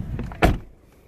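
The door of a 2017 Mercedes-Benz GLE 43 AMG swings shut with one solid, heavy thud heard close by, preceded by faint rustling and followed by a quiet cabin.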